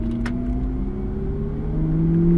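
A car engine hums steadily and rises gradually in pitch as the car speeds up on a race track, close and continuous with no voices.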